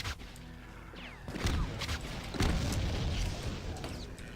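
Heavy booms from explosive weapons in the game Doom land in a series of loud, sudden blasts, each followed by a rumbling tail, with no talk.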